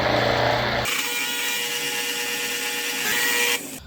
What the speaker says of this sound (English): Drill my next hole.